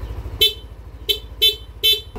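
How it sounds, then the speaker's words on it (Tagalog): The stock horn on a motorcycle beeps four short times at uneven intervals, close and loud, over a low idling engine. "Stock horn."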